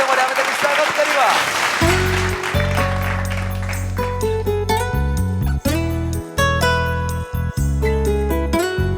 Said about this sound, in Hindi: गोटे जोरदार करताली माध्यम रे आमे ताके स्वागत करिवा